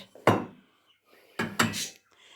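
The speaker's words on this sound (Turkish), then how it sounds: "Şimdi ocağa yemeğimi koyuyorum arkadaşlar" A pot of food being set onto a stove, heard as a couple of separate knocks and clanks of cookware with short quiet gaps between them.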